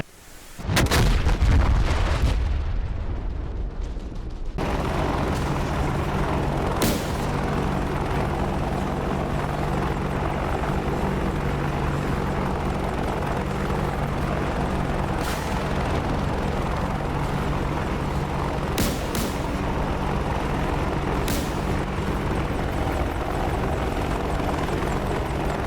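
A DCS attack helicopter's rotor and engine drone on steadily and loud throughout, broken by a few sharp distant bangs as Hellfire missiles are fired at tanks.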